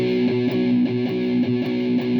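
Guitar strumming a swing triplet rhythm, the chords slightly distorted, repeating in an even, bouncing pattern at steady volume without pause.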